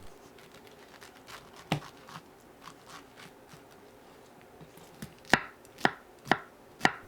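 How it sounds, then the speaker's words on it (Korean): Knife slicing the skin off a pineapple on a cutting board: a few soft cuts early, then four sharp, evenly spaced chops close up near the end, in a quiet room. "파인애플 겉껍질을 잘라냅니다"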